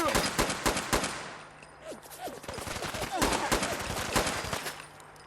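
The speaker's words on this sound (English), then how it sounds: "they're using machine guns" Rapid machine gun fire in the post-apocalyptic shooter Fallout London, loud repeated bursts of close shots in quick rhythm with a brief lull in the middle, with someone talking faintly under the firing.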